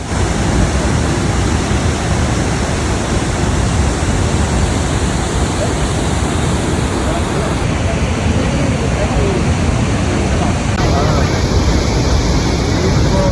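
Athirappilly waterfall in a Thrissur forest roars with a loud, dense, unbroken rush of falling water that fills the whole scene at close range.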